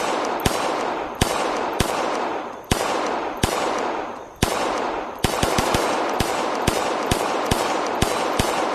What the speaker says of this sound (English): it is pretty cool to hold in your hand. And just send rounds down range